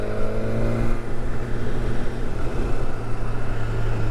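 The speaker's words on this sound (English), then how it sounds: "It's a nice smooth sort of engine on it" A BMW S1000R motorcycle on its stock exhaust hums smoothly and steadily while riding at a constant pace, mixed with rushing wind noise.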